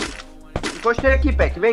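Sharp gunshots from a video game ring out in quick succession, a few separate cracks mixed with excited team voice chat talking over them.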